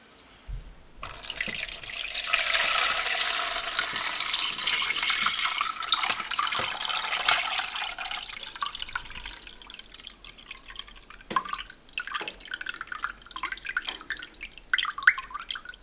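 Homemade chicken broth with carrot and leek is strained in a kitchen, a continuous splashing pour of liquid giving way to scattered drips and small trickles near the end.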